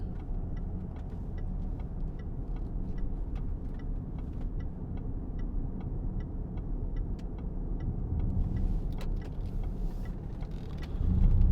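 A 2016 Range Rover 3.0 TD V6 Vogue automatic drives round a roundabout, its diesel engine a low, steady cabin rumble with a regular ticking indicator on top, swelling slightly near the end.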